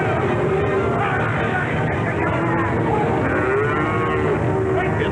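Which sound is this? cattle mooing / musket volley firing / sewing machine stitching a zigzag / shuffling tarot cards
cattle mooing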